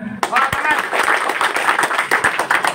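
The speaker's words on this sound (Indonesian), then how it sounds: "Tepuk tangan." An audience at a ribbon-cutting celebration for an NGO secretariat office in Indramayu claps loudly and continuously, sharp hand slaps mixed with cheering voices and talk.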